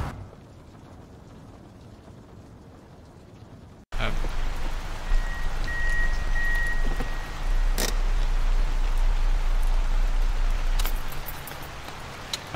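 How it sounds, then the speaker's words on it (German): Heavy video-game rain from Night Security suddenly cuts in after a quiet opening, then pours loudly as a dense, constant hiss for the rest of the clip. "Regengeräusche sind wirklich laut"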